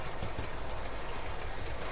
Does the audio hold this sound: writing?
no